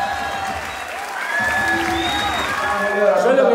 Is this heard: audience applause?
yes